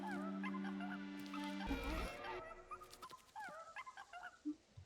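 A dog whimpers and snarls in a series of short, high yips and whines over a household background, fairly close, with brief growly bursts toward the end.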